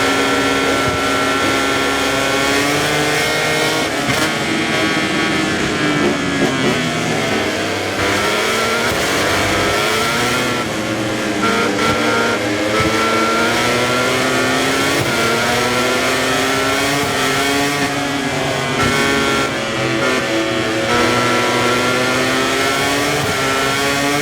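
Racing motorcycles in a MotoGP career-mode video game at Phillip Island, Honda and Ducati bikes screaming continuously down the track with rising and falling engine pitch as they shift gears, loud and sustained throughout.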